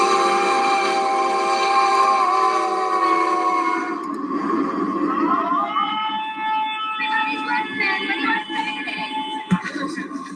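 A train horn blares with long sustained tones, a loud steady blast that gives way to a rumbling, shifting mix of railway noise and fainter horn notes.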